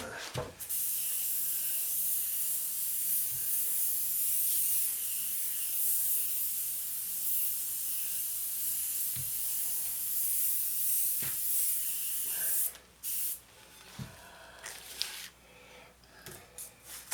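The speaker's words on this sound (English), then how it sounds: "Let's see, spray it that way." A small hand sprayer mists glue onto a glass surface for fused glass work, giving a steady, close hiss that runs for about twelve seconds before breaking into shorter bursts and handling noises.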